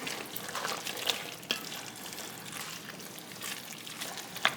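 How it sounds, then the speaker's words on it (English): Shredded cheddar and Parmesan cheese being stirred into a warm dish, a soft, steady wet sizzle with faint scraping and a few sharp clicks of a utensil against the pan, close and without talk. "Go ahead and stir that cheese down in there."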